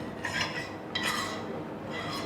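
A spoon scrapes and stirs thick sorghum pap in a pot, giving soft, irregular scraping and light clinks of metal against the pot, close and unhurried.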